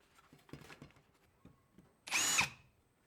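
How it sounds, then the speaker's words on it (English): A brief high-pitched whine of a drill press spinning up for about half a second, preceded by faint clicks and handling noises. "drilling with a drill press"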